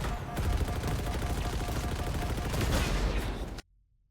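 The Warthog's gunner-seat weapon in Halo Infinite fires a loud, unbroken rapid stream of shots for over three seconds, then cuts off abruptly into near silence.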